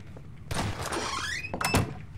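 In a Garry's Mod Prop Hunt match, a door slides and thuds shut with a creaking, sweeping scrape and a final knock, close and brief.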